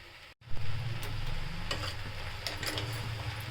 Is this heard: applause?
no